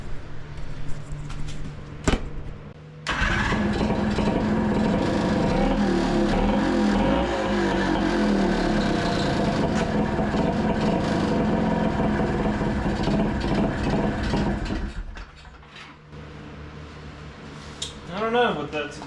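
A rebuilt engine starts after a brief lead-in and runs loudly and steadily for about twelve seconds with a dragging, belt-like rasp before cutting off. People talk briefly around it.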